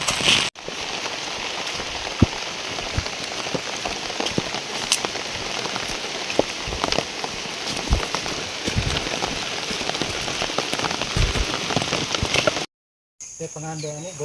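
Heavy rain pours steadily onto a farm field, a dense continuous patter of drops hitting surfaces close by, with faint bird calls in the background.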